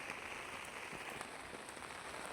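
Rain falls steadily at a new theme garden in Thane, a faint, even hiss of drops on surfaces that carries on without pause throughout.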